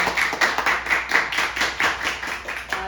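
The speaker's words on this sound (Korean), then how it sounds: "다시 한번 박수 드릴게요." An audience at a lecture event claps steadily for about three seconds in a brisk, even rhythm of many hands, close and fairly loud, with no voices over it.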